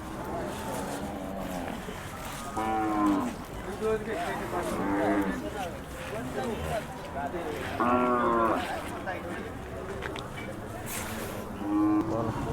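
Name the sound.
cattle calves at livestock market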